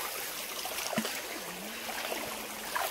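Spring water gushes continuously from a natural outlet at Kia Jhara in Dhenkanal, a close, even trickling rush with a faint tonal murmur over it.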